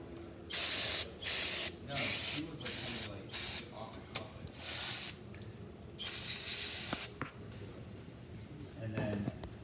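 Aerosol cleaner sprayed in a series of hissing bursts of varying length onto greasy axle bolts, with short pauses and faint mechanical clicks between bursts.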